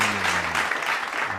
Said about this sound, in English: We give you an applause for that.